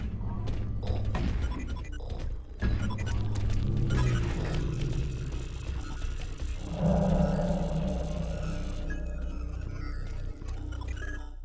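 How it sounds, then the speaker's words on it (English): Dark, rumbling sci-fi ambience from the game Space Beast Terror Fright, with dull metallic thuds and clunks of a space suit moving through a derelict ship and a low eerie drone throughout, steady and moderately loud. "the only things you'll hear are your suit clunking around and the creepy ambience of something in the distance"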